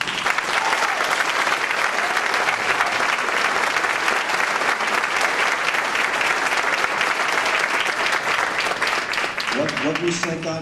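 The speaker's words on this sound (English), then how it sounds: "give them a round of applause." Parents applauding a police youth academy class, sustained loud clapping from a crowd lasting around ten seconds before fading as a voice begins speaking near the end.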